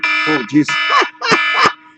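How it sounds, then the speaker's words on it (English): A loud reminder alarm beeps in a steady electronic tone close by, with a voice exclaiming over it in short bursts. "That's my alarm to remind me to go home."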